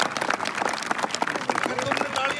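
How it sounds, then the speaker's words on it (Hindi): An audience claps along in a lecture hall, a dense patter of many hands that stays fairly even throughout, with a voice speaking over the clapping. "तालियां तुम्हारी कमजोर है"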